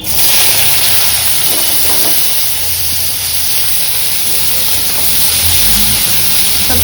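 Chopped carrot, capsicum and onion fry in a wok, giving a steady loud hiss and sizzle that continues without a break from start to finish.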